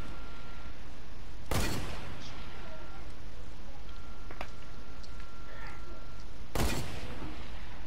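Two sharp, loud shots in a video game, spaced about five seconds apart, over a steady low background hum with faint scattered clicks between them.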